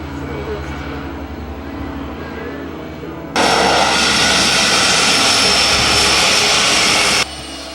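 A floatplane engine roars on a lake during a canoe expedition, suddenly swelling into a loud, steady close-range drone that holds for several seconds and then cuts back to a quieter background hum, with no voices.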